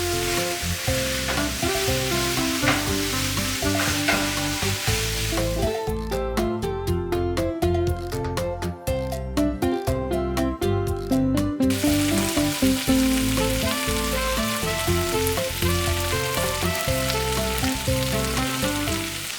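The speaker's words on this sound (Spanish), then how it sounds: "Y lo vamos a tener cocinando hasta que veamos que la cebolla está marchitada." Chopped onion and ham fry in a pan with a dense, continuous sizzle, broken midway by a stretch of rapid clicking or tapping before the even crackle resumes; no voices.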